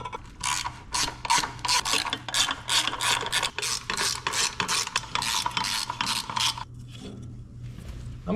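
A hand ratchet works a starter off a 75-year-old Case LA tractor, clicking in a steady run of quick, close, even bursts for several seconds before stopping.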